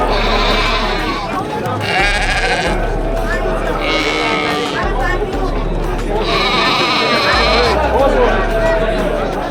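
Goats and sheep bleat repeatedly at a crowded livestock market in Uzbekistan, loud close cries rising over steady crowd chatter and nearby voices.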